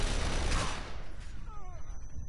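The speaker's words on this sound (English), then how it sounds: "They're shooting from above." Enemy gunfire in the horror game The Evil Within, a burst of loud shots up front that fades into a softer, rumbling tail with faint whistling tones.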